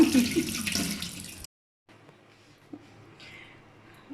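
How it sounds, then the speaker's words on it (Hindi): Tap water runs into a kitchen sink as a hand is rinsed off, a loud steady splash for over a second before cutting off, then quieter faint kitchen sounds follow. "मैं पानी से धोने लगा"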